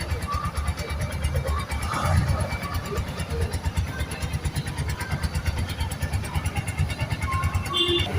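A small commuter motorcycle, a CD 100 or Discovery type, runs smoothly at idle just after starting, giving a steady, fairly close engine chug while someone talks over it.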